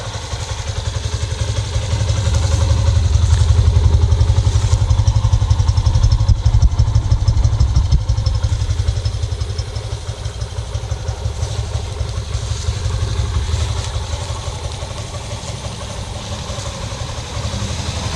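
A close, loud Yamaha FZ version 2 motorcycle with 3,000 km runs at a steady idle, its low engine throb rising and falling gently throughout.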